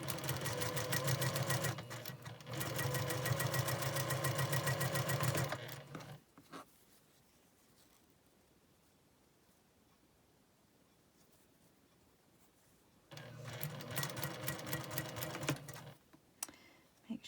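A sewing machine stitching quilt triangles cut on the bias runs in a fast, steady mechanical rattle for about six seconds, falls silent, then starts again for a few seconds near the end, close and loud.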